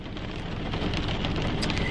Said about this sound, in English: It's raining, okay?